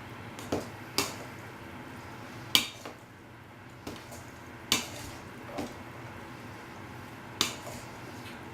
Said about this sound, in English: Mix this sauce just into it a little bit.